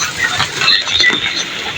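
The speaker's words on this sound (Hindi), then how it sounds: "बारिश शुरू हो गई है" Outdoors in Pakistan, rain mixed with hail patters in a dense, fast, irregular rattle, loud and close, with no voices over it.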